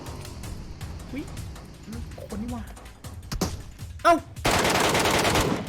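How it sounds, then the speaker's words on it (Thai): Scattered sharp gunshot cracks from PUBG Mobile, mixed with talk, ending in a sustained loud burst of noise. "เราจะไปตามหาเสียงปืนเหมือนเดิมนะครับ"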